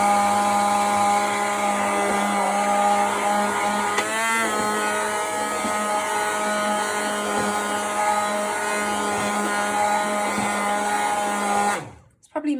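Homemade mayonnaise is whipped with an electric mixer moved up and down, a steady whining motor hum with pitch wobbles as the blades shift, cutting off near the end.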